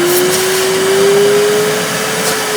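A Giraffe Tools retractable vacuum cleaner runs steadily, its motor whine holding a constant pitch that creeps slightly upward while a broad airflow roar fills the background, loud and close throughout.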